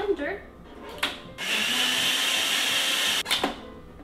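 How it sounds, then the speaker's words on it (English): A kitchen blender whirs loudly and steadily for about two seconds, with knocks and handling noises before and after it runs. "put it in our blender"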